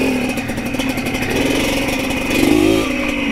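A motorcycle engine revs steadily and close by on a rural back road in the Philippines, rising slightly in intensity near the end, with no talking.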